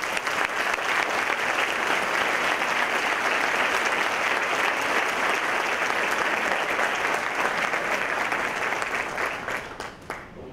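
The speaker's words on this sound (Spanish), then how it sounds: "pido a todos un fuerte aplauso para ellos" Sustained applause from a large crowd at a university swearing-in ceremony honouring colleagues, thick and steady for about ten seconds before thinning out at the end.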